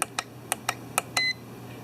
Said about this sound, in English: it tells you when it's in the center by a long beep